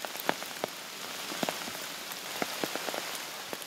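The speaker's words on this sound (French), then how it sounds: "C'est de pire en pire, cette pluie." Steady rain falls during a hike in the Lot valley, a dense soft hiss with scattered sharper drops pattering on nearby surfaces, continuous and moderately quiet with no voices.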